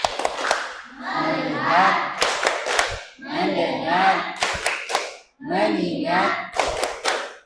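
Classroom group clapping the 'tepuk fokus' ice-breaker in rhythmic bursts, with people chanting words in unison between the claps, fairly close and loud.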